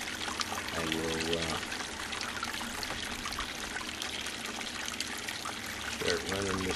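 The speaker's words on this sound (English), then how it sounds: "I slowed the water down just a little bit from my last attempt with this concentrator" Water pours and trickles steadily through a small blue bucket sluice gold concentrator during a test run, a continuous close splashing flow with brief tonal hum bursts near the start and end.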